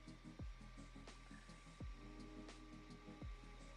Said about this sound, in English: That's an incredibly quiet printer.